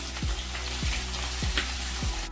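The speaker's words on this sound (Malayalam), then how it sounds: "അതിലേക്ക് നമുക്ക് അരിഞ്ഞു വെച്ചിരിക്കുന്ന പാവയ്ക്ക ഇട്ട് കൊടുക്കാം" Chopped bitter gourd for a Kerala-style stir-fry sizzles steadily in hot oil with dried red chillies and curry leaves, broken by a few low, sweeping scrapes of a spoon in the pan, close and continuous with no voices.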